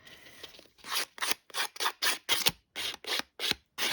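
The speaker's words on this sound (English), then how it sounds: "But if you do use the scissors, just be really careful because you can cut yourself." Scissors snip through card as it is trimmed and distressed for a handmade greeting card, about ten crisp, evenly spaced cuts close up, each a short sharp burst separated by brief silences.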